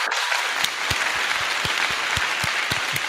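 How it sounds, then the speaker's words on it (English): Audience applause for Adam Richards, an Open Bell winner, at a Frightmare HQ interview: steady clapping from a small crowd with sharp individual claps standing out, loud and close, with no talk over it. "everybody applaud Adam Richards"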